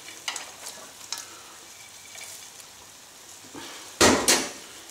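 Nuts fry in a pan with gnocchi, a soft steady sizzle broken by light scraping stirs and a louder burst of stirring near the end, with no voices.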